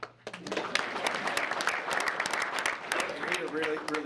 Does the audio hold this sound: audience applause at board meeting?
yes